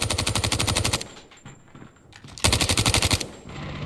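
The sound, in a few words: sentry gun firing in a video game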